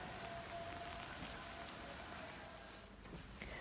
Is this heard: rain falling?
yes